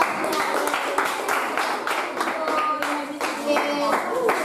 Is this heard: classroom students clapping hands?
yes